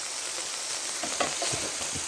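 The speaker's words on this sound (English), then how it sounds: "Careful, it's gonna be sizzling a little, so it's gonna probably pop on you." Burger patties fry in a hot pan with a steady, close sizzle and a few small crackling pops, with no talk over it.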